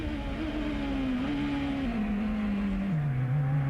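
A Champ Car race car engine at the 2004 Montreal race start, heard from the in-car view in Alex Tagliani's seat: a loud, close, sustained engine drone whose pitch steps down a few times, with no talk.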